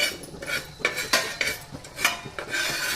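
A spoon scrapes and stirs dry-roasting spices, sesame seeds and cumin in a metal pan, a series of rhythmic scrapes and clinks up close with a faint sizzle beneath and no talk.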